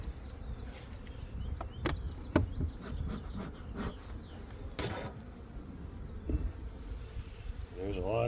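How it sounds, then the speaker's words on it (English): Honey bees buzz around a wooden beehive box in late winter, a steady close hum with scattered rubbing and knocking sounds on the box and faint voice-like noise. "There's a lot of bees."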